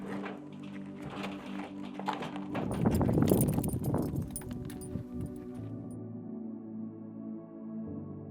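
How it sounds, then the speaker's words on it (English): Horses walking on a morning ride, hooves clopping in an uneven rhythm that peaks midway with a louder scuffling burst before settling back under a low background hum. "Riding 3 or 4 miles on a horse, you know, we get a pretty good start."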